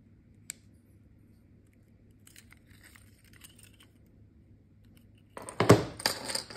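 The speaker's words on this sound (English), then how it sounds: "Here we have a 2020 Acura RDX key, lock, unlock, trunk release," Button clicks on a 2020 Acura RDX key fob: a single faint click early, then a louder burst of close plastic clicking and rattling near the end, over a quiet hum.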